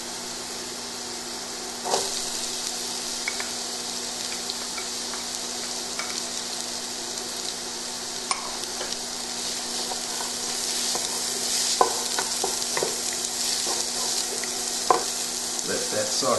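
Chopped onion sautéing in a pan for chicken bolognese, a steady soft sizzle with occasional light taps and stirring clicks, close and continuous, no voices.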